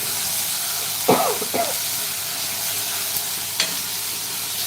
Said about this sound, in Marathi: आता आपल्याला सुकट आहे ना चांगली याच्यामध्ये मिनिटभर परतून घ्यायची आहे कांद्यामध्ये